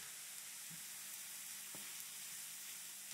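Steady, soft sizzling of vegetables for ratatouille sautéing in a pan, with a few faint clicks of stirring and no talking.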